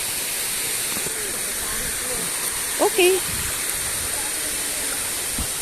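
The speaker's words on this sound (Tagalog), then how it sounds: "Ayan yung falls, guys." Steady broadband rush of Bucawag Falls, a waterfall, running throughout as a constant hiss, with a person speaking briefly in the middle.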